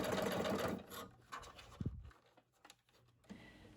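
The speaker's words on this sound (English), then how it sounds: "I just went forwards and backwards to secure it with stitching from my sewing machine" A home sewing machine runs stitches back and forth to secure elastic ends on pajama pants, giving short whirring bursts with pauses and small mechanical clicks, close and fairly quiet.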